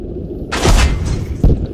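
A tank cannon fires in the game Squad, a heavy boom bursting in after a brief quiet rumble, with a second lower thump following a moment later, close and loud.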